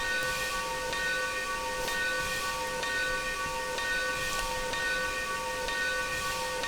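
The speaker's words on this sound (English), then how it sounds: "Now let's listen to the actual bells and whistles." Steam whistle of a Union Pacific 0-6-0 steam locomotive in the Trainz 2019 simulator, a steady hissy multi-tone whistle held throughout, with faint regular bell-like ticks under it.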